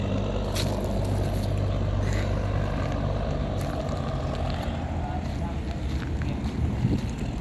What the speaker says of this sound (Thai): เรือพี่เขาดึงไปไว้ข้าง ๆนะครับ